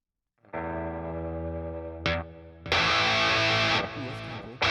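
An electric guitar through a Bias FX Turbo Distortion effect rings out as a sustained, heavily distorted chord, followed by a pick scrape and fresh saturated strums, loud and close with no talk.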